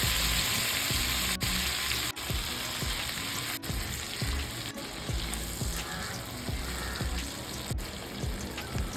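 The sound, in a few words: chicken pieces frying in butter over medium flame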